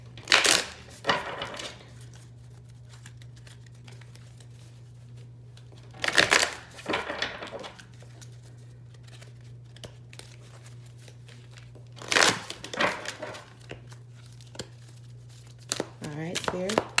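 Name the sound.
shuffling Moonology oracle cards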